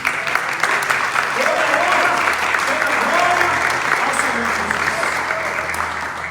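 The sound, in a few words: audience applause in church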